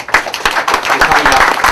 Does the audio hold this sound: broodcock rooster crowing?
no